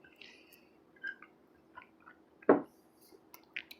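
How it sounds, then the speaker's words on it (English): A single short slurping sip of water stands out amid quiet small clicks and mouth sounds, close and fairly soft in a calm, hushed room. "I'm going to just sip some water."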